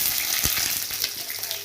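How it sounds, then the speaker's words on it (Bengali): Chopped onion sizzles in hot oil tempered with dried chili, cumin, bay leaf and whole garam masala, giving a steady crackling hiss with a few louder pops and stirring scrapes. "পেঁয়াজ কুচি দিয়ে ভাজবো।"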